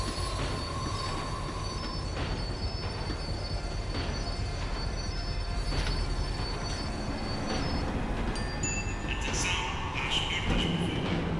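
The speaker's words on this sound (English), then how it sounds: "The tram was slowing down." A Max Payne 3 tram slows on its rails with a constant heavy rolling rumble, wheel squeals and faint clicks, and a few higher metallic tones near the end.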